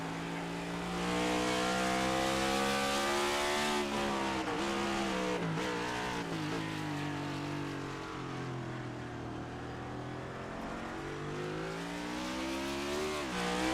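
A NASCAR Next Gen race car powers out of turn 10 at Sonoma with a loud, sustained engine roar that climbs and dips in pitch through gear changes, steady and close, with no talking.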